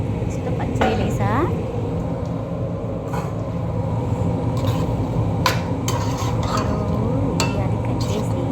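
Raw prawns are stirred into a curry in a pan, with a low sizzle under scattered clinks and scrapes of a utensil against metal while someone talks.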